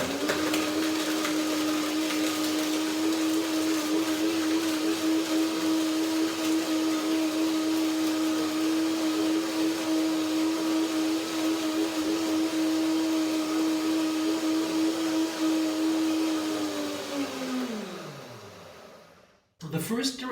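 A blender whirs at a steady high speed for a long stretch, blending nuts and dates into a dressing, then winds down and stops near the end.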